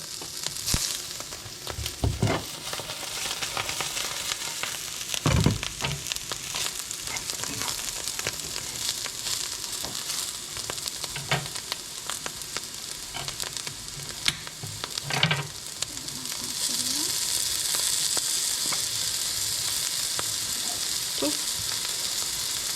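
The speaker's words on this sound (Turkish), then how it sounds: "Bir de tereyağını kızartıyoruz şu an" Steady sizzling of butter and lion's mane mushrooms frying in a pan, with occasional clinks and stirring sounds; the sizzle grows brighter and louder near the end.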